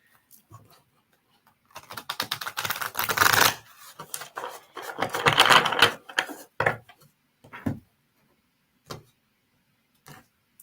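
Tarot cards being shuffled by hand in bursts of riffling and flicking, close and crisp, with a few single card snaps and taps in between and no talking.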